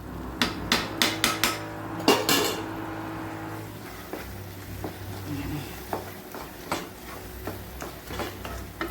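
Bread halwa is stirred in a pan with ghee, cashews and pumpkin seeds, opening with a run of sharp spoon knocks against the vessel, then settling into a soft sizzle with scattered taps and scrapes.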